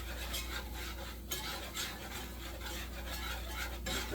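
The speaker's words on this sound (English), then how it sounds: "Mix all that grease up with that flour." Spoon scraping and stirring grease and flour together in a pan for biscuit gravy, a soft continuous rubbing and scraping with light repeated strokes over a low steady hum.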